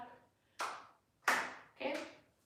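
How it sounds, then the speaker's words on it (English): Hands clap three times in a slow, even rhythm during a live workout exercise, each clap sharp and close with a short ringing tail, faint voice traces in between. "just clap your hands front and back if you can"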